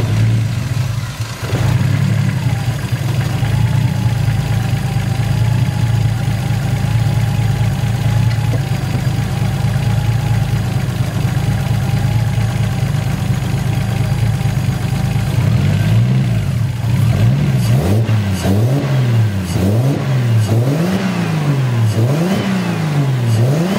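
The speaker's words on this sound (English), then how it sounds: "we're gonna give it a crank" Toyota Supra MK3 engine being cranked over, catching and idling with a steady loud drone, then revved repeatedly in rising and falling sweeps near the end, close and alone with no talk.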